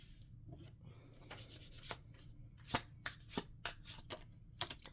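Tarot cards being shuffled by hand, a quiet close run of papery riffles and rubbing with several sharper snaps of the deck, irregular in rhythm.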